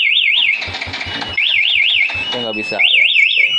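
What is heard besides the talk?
motorcycle anti-theft alarm sounding loudly on Yamaha Jupiter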